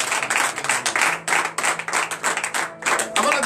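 A congregation at a morning prayer service in Benin claps in bursts, loud close hand claps forming an uneven rhythm with short pauses and a faint sustained tone underneath.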